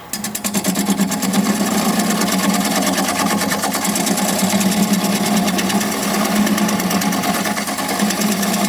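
A carbide tool cuts driftwood on a wood lathe, giving a loud, steady scraping whir with a fast chattering texture that runs unbroken from start to finish, close and alone.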